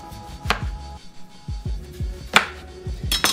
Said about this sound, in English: I'm gonna cut it in slices